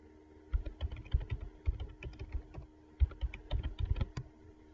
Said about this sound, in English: simply type in what you would like to appear in the web address